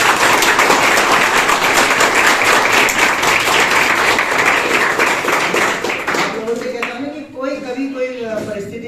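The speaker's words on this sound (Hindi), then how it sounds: "एक बार जोरदार ताली" An audience gives enthusiastic applause for a student who has earned a place studying medicine, dense clapping that runs strong for about six seconds, then thins out as a voice begins speaking.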